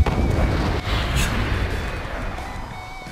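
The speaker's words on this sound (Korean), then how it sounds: "저기 오른쪽에 보시면 방금 폭발했죠?" An explosion in the video game Garry's Mod booms as a dense, roaring rumble that fills the whole three seconds, loud from the start and easing only slightly toward the end, with no voices.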